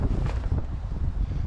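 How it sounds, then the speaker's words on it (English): Gusty wind buffets the microphone in low rumbling bursts, loud and close, with no speech, outdoors in North Florida during a hunt. "it is super windy out here"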